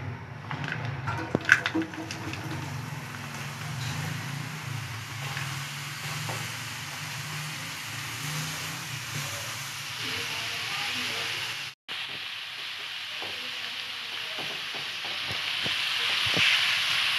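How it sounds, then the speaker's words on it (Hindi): Badiyan, lentil dumplings, fry in hot oil, a steady close sizzle and hiss running throughout with occasional stirring clicks, growing brighter toward the end. "ऑयल गर्म हो गया है तो अब उसमें बड़ियाँ डालते हैं।"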